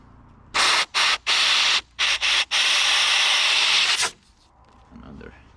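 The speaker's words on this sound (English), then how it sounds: "I'm taking my compressed air here, blowing away, and also inside the hole" Compressed air blasting debris out of holes drilled in concrete for garage construction anchors, loud hissing bursts in several short pulses followed by one long continuous blast, then quieter background sounds.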